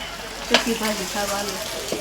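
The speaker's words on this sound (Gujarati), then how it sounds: "વટેટા વઘારે છે દયા કાકી" Potatoes are tempered in hot oil in a pan, giving a close, crackling sizzle with short bursts of spattering and some stirring clatter.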